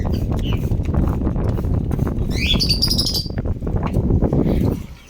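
Pet cockatiels perch by an open window, giving a short burst of bright chirps midway over a busy, clattering indoor background that fades out at the end.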